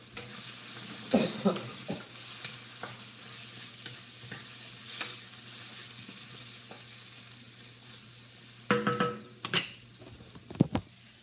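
Vegetables with hot pepper sizzle steadily in a frying pan at low volume, broken by occasional clinks and scrapes of stirring utensils against the pan.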